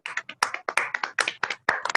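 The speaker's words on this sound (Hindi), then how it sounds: "सभी अनम्यूट करें और क्लैपिंग करें अमोलक सिंह जी के लिए" Hands clap in a brisk, roughly even rhythm of sharp separate claps, close and clear, about a dozen in two seconds, from a participant in an online meeting.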